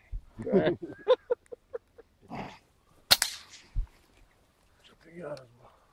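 A single sharp rifle shot cracks out, brief and loud, amid scattered short bursts of conversation from people nearby.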